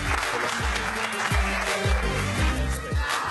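Audience applause for a sixth-place finisher at the European Poker Tour final table in Berlin, a steady clatter of clapping throughout, with a low rhythmic musical bed pulsing beneath it.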